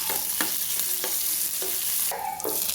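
Onions frying in oil in a pan, a steady broadband sizzle with periodic scraping strokes of a spoon stirring, close and continuous with no talking.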